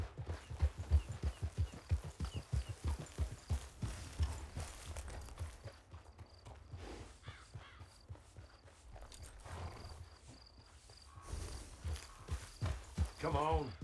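In a Red Dead Online mission, a horse's hooves clip-clop in a quick, steady walking rhythm near camp, fading and then returning, with other game sounds and speech around them.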